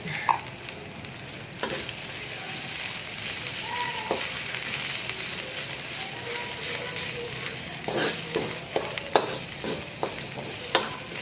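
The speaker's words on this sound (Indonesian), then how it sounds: "Ini pokoknya ditumis sampai wangi ya." Spatula scraping and stirring chili paste in a pan under a steady low sizzle, with scattered clinks and scrapes growing busier toward the end.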